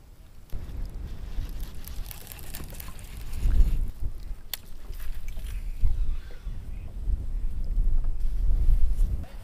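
Gusty wind sweeps across open water during kayak fishing at Choke Canyon, buffeting the microphone with deep rumbling surges that rise and fall, loud and close, with only faint traces of voices.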